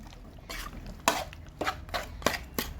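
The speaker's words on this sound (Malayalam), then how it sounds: "അതുകൊണ്ട് ഇത് ഇങ്ങനെ സ്പൂൺ വെച്ച് ഇളക്കി അത് യോജിപ്പിക്കണം" A metal spoon stirs and scrapes food in a non-stick-free cooking pot, giving several sharp clinks and scrapes at irregular intervals, close and fairly loud, with no talking.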